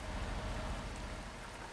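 Steady rain falling in the Euro Truck Simulator 2 driving game, a dense, even hiss of drops on surfaces heard alone, with a low rumble of the truck underneath.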